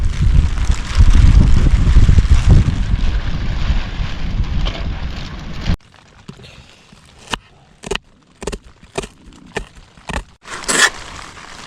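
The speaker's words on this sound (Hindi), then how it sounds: "ओहो, हवा कितनी तेज चल रही है यार।" Strong storm wind buffets a campsite, a loud continuous roar of gusts for about six seconds, then dropping to quieter rustling with sharp intermittent bursts and flaps.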